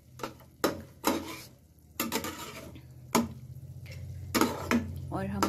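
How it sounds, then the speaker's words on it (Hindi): Okra (bhindi) being lightly sautéed in a pan, with repeated scraping stir strokes and clatter against the pan over a soft, steady sizzle, close and moderately loud. "ये देखिए इस तरह से बस इसको हल्का सा सॉटी करना है।"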